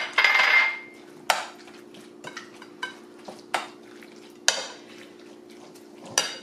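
Cucumber salad with sour cream and dill is mixed in a bowl, giving a burst of wet stirring followed by a series of separate clinks and taps of a utensil against the dish, close and fairly quiet.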